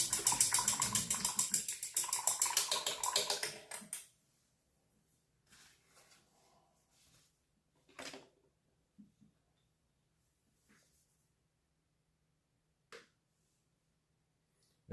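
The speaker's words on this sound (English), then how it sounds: "let's rinse that out" Water from a tap runs loudly while something is rinsed out, then stops after about four seconds, leaving faint scattered clinks and small sounds in a quiet room.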